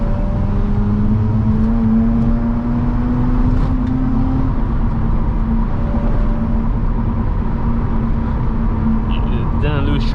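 A Mazda RX-8 drops a gear and accelerates on a snowy road, its engine a steady loud drone with rising pitch heard from inside the car under someone talking.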